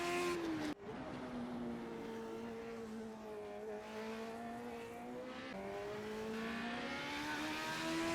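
Race cars circle the Wild West Motorsports Park and Irwindale Speedway tracks in an esports sim racing event, their engines whining steadily and shifting in pitch at moderate volume as they pass and accelerate.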